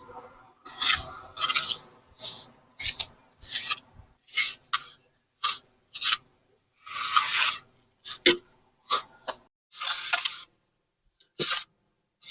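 Repeated rasping scrapes of a trowel smoothing resurfacing cement over damaged concrete, short strokes in irregular bursts separated by brief pauses, close and fairly crisp.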